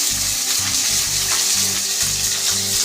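Whole cumin seeds fry briefly in a pan, giving a steady, close sizzle with a dense hiss that holds level throughout, broken only by faint low rumbles and no talk.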